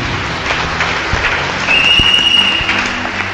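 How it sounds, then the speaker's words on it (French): Applause from a church congregation during a sermon, a steady wash of clapping that swells slightly midway and carries on to the end, with scattered cheers over it. "Acclame bien."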